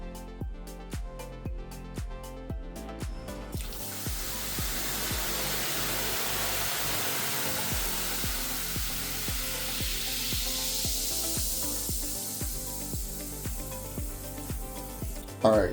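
Vinegar poured onto baking soda in a sink drain sets off a steady fizzing sizzle that swells after the pour and holds as a soft hiss, under a regular ticking beat of background music.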